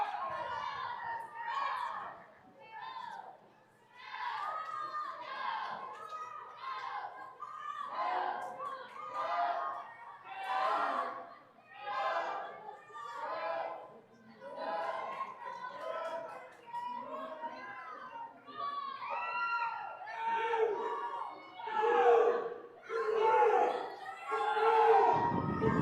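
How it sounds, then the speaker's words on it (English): Boys' team cheering on swimmers at a high school swim meet, a steady stream of shouting young voices echoing in an indoor pool, rising and falling in waves for the whole stretch. "You can see the boys team cheering on Sophie and her teammates over here on the right-hand side of the screen"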